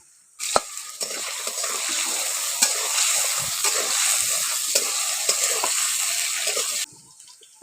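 Potato pieces fry in hot oil seasoned with salt and turmeric powder. A loud, continuous sizzle sets in abruptly, with scattered stirring knocks, and cuts off near the end.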